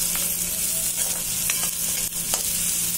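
Turmeric, red chilli and cumin powders stirred into a sizzling mixture in a pan, a steady close frying hiss with a few soft scraping strokes of the spoon, no talking.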